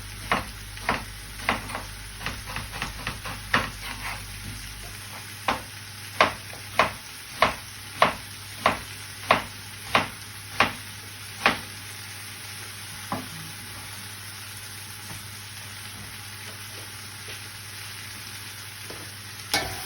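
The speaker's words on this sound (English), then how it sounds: "Just stir that round because we need to brown all that off." Chopped onion for a beef casserole browns in a pan under a soft steady sizzle, punctuated by a run of regular sharp spatula scrapes and taps that thin out and stop toward the end.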